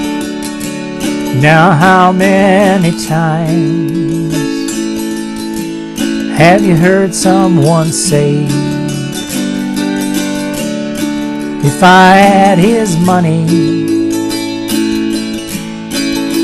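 An autoharp strums plain chords in D, with no melody fills, backing a man singing a song. Steady strums sound close and loud under the vocal.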